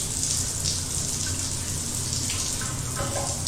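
Water runs steadily from a tap or shower, a continuous close-up hiss with no breaks and no voices over it.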